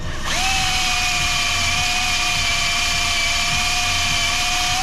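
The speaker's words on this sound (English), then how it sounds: "Let's get the wire wheel out." A wire wheel on a power tool spins up and grinds steadily against a rusty exhaust manifold bolt on an engine, a loud, continuous high whine held close throughout.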